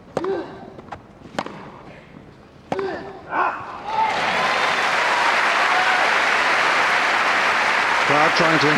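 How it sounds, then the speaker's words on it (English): Wimbledon tennis crowd during a 2005 fourth-round match, with sharp racket hits and ball bounces first, then loud sustained applause filling the rest. "Crowd trying to encourage the Spaniard."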